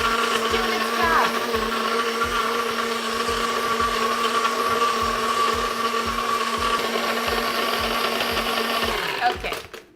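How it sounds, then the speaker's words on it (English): A blender runs loudly and steadily, its motor whirring with a rapid rhythmic grinding as it crushes ice, then cuts off abruptly at the end. "Okay, now let's go over to the blender."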